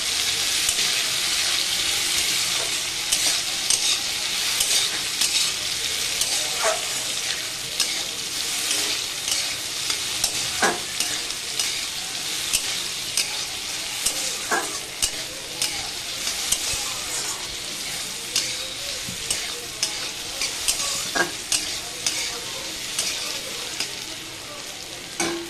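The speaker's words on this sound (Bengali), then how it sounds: "আর এখানে যে মিষ্টি লাউ ভেজে নিচ্ছি।" Sweet bottle gourd frying in a pan, a continuous close sizzle with intermittent stirring clicks and scrapes, plus a faint trickle of running water in the background.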